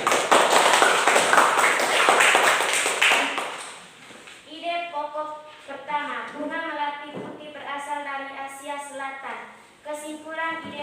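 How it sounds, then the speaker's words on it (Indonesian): A class claps in unison for several seconds to cheer on a student, the clapping loud and busy at first and then stopping as a speaker continues. "Kita beri tepuk semangat dulu untuk Leli."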